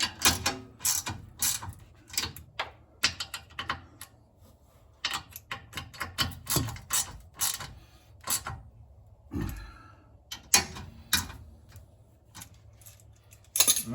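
A ratchet wrench tightens bolts on the rear suspension of a 2006 Honda Pilot, giving close, loud bursts of rapid metallic clicking in repeated short runs with brief pauses between them, and no talking.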